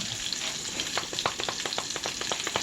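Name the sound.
stir frying vegetables in a pan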